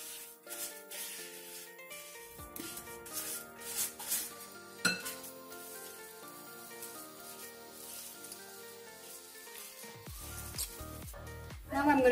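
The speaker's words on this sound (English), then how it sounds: "take the semolina mix, mix the flour into this" A spoon scrapes and clinks against a bowl while semolina mix and flour are stirred together for an eggless chocolate cake, with steady irregular tapping and scraping close up and a louder clatter near the end.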